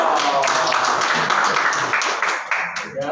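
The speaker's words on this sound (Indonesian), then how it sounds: "kasih tepuk tangan dulu" A church congregation at a Sunday service claps together in a dense, lively round of applause that fades toward the end.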